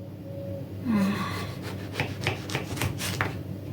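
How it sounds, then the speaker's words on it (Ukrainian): Kitchen knife slicing an eggplant lengthwise into long strips, producing a few soft, scraping cuts and rhythmic rubbing strokes close by, quiet and without speech. "Тепер я буду різати ось такі повздовжні смужки, язички такі."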